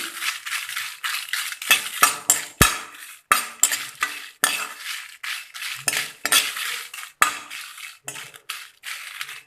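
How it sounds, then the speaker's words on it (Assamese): Fenugreek and other seeds dry-roasting together in a pan, stirred with a utensil that scrapes and clinks against the metal in quick, uneven strokes close by, with no talking. "গোটেইখিনি মই একেলগে ভাজি ল'ম"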